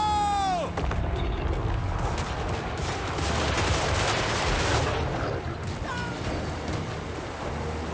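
Empire soldiers firing volleys in a Total War: Warhammer 3 battle, a dense continuous roar of gunfire and battle noise throughout, with a voice shouting briefly near the start.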